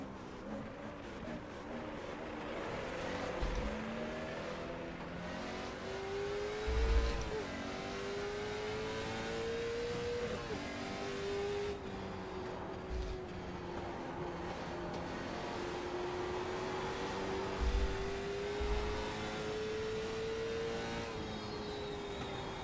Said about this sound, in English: somebody's car sounds stupidly broken